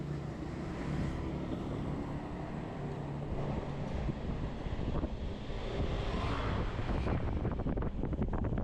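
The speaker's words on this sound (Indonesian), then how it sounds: "Oh, anginnya kenceng, guys." Strong wind buffets a small FPV drone in flight, a steady rushing roar with low gusty rumble that swells and fades throughout, loud and close to the microphone.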